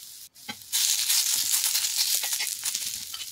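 Food sizzles on a hot tawa for a light, healthy dinner, a broad steady hiss that jumps louder after a brief quiet gap and stays close and continuous, with faint scraping as pieces are turned.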